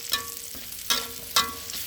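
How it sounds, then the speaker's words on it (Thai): Garlic and bird's eye chilies stir-frying in a hot pan, a steady close sizzle with three sharp bursts of spatula scraping and tossing, no talking. "หอมนะกระเทียมกับพริกขี้หนู ผัดเพราะหอมมาจ้ะ"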